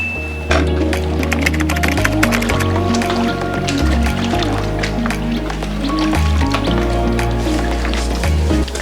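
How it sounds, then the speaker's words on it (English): Boiling water is poured into a purple batik dye solution made with caustic soda and hydrosulfite, a continuous splashing, gurgling pour with drips and trickles over a busy background of other sounds. "And then he's adding boiling water."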